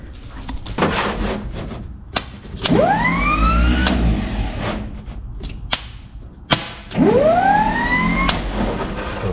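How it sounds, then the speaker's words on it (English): A 1951 Plymouth starter motor, fed directly by a jumper cable, whirs up in two rising spins that each wind up and cut off, with sharp metallic clicks and clunks between them. "I'm gonna see if I can get the starter to spin over."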